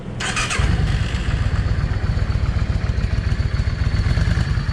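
A Yamaha 650 V Star motorcycle with a drilled, modified exhaust starts up and then runs at a steady, loud idle with a rapid, even low thumping, close by and alone.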